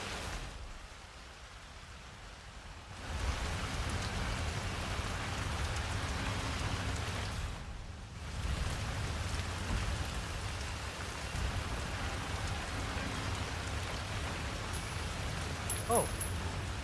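Steady rain pours across a Hitman 3 game scene, a dense continuous hiss that holds at even loudness after a brief quieter stretch at the start and a short dip near the middle, with no talk.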